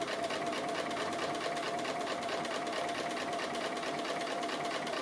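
A sewing machine runs a straight stitch close to the edge of a dog applique, a fast, even, steady whirring hum with rapid needle clatter, continuous and close, without talking.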